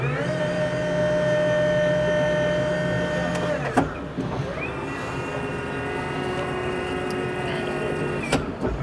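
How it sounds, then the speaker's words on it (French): A fully electric loader operating, not a hybrid, giving a steady whining electric drive tone that stops with a clunk, then resumes at a higher pitch over low background rumble, with a brief voice nearby. "engin entièrement électrique, hein, les gars, c'est pas un hybride. Hein. Et ça fait assez bruit, c'est impressionnant."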